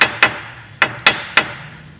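Hammer blows tapping an outer tie rod end out of a car's steering knuckle during suspension work: five sharp metallic strikes at uneven intervals, close and clear, with no talk.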